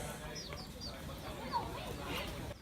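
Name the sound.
chickens clucking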